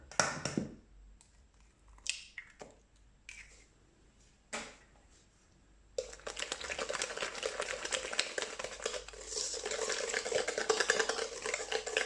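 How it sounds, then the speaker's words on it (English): Eggs being mixed into a butter mixture for panettone: a few scattered clinks and scrapes in a quiet room, then about six seconds of continuous brisk beating, close and moderately loud. "you can just start mixing the eggs one by one in the mixture of the butter"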